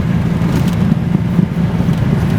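A Datsun 260Z on lowering springs drives hard through corners with the revs held high. Its engine gives a steady, loud, close drone with no speech over it.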